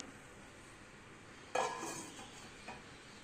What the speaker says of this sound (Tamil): இப்போ இதை போட்டு ஒரு மூடியை போட்டு மூடி வைக்கலாம்